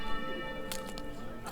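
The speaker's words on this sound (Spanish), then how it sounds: "Con el sonido de la campana vamos a probar" A church bell in Germany rings in repeated sustained tones with bright strikes, heard under background chatter and ambient noise.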